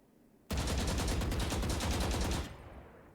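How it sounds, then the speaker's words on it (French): A weapon in the Valorant video game fires in one sustained automatic burst of about two seconds, rapid, even shots close and loud, followed by a fading tail against quiet background. "Ça a un sacré recul, cette arme. Du milieu avec un tir continu."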